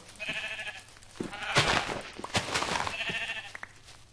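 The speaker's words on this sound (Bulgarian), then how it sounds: "Ето, виждаш ли, насреща има тъпи овце" Sheep in the Minecraft video game bleat several times in short wavering calls, spread across the span with clicky game sounds in between, fairly faint and with no talk over them.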